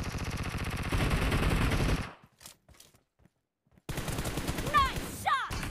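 Rapid automatic gunfire in PUBG Mobile, a dense burst of shots for about two seconds, a near-silent gap with scattered faint pops, then more firing mixed with whooshing game effects.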